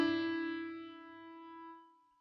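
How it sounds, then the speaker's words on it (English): A single piano note carries an inverted mordent, a quick flick down to the note below and back, then sustains and slowly fades. Played alone, with no voices. "The inverted mordent is for the most part performed quite briefly,"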